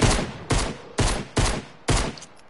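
Pistol fire in a shooter video game, five loud booming shots spaced roughly half a second apart, each followed by a short decaying tail, with no talk over them.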